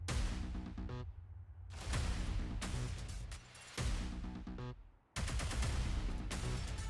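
Street gunfire aimed at a man, heard as loud bursts of rapid repeated shots separated by short gaps, harsh and close.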